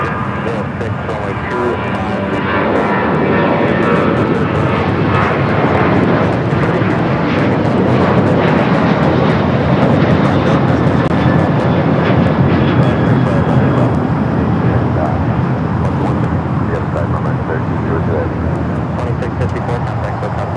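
Jet airliner engines roaring on or near a runway at LAX, a loud continuous broad rumble that swells slowly, with radio voices from air traffic control over it.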